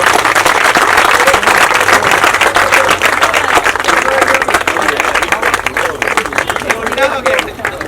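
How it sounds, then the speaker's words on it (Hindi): An audience at a public event where an animal care van is donated breaks into loud, sustained applause. Dense clapping fills the whole stretch, close and steady, with a murmur of crowd voices underneath. "अ बिग हैंड प्लीज, जोर से तालियां।"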